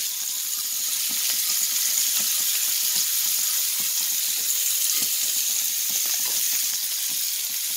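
Sardines roast on an iron tawa in oil, a bright steady sizzle and spitting crackle heard up close and unbroken throughout, with no voices over it.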